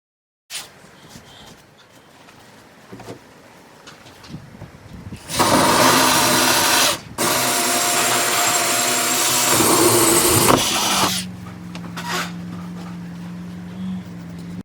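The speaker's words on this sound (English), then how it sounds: "First, drill a hole in the wall where you want the new water faucet." A power drill whirs loudly in two bursts, drilling a hole in a garage wall, with a brief break between them, followed by a lower steady motor hum and light handling noises.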